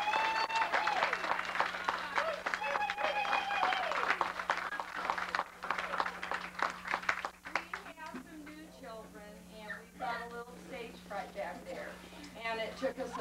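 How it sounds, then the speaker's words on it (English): An audience applauds children at a 1994 school Christmas program, scattered clapping mixed with chatter and children's voices from the crowd. After a few seconds the clapping gives way to talking and general room noise. "could I have a round of applause for the children?"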